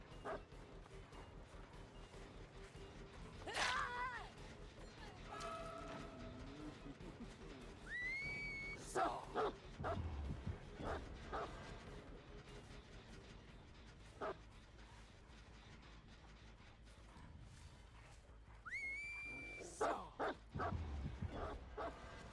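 A dog gives a few scattered barks and whimpers, with high whistle-like squeals and yips, moderately close but fairly quiet, separated by pauses over a low room background.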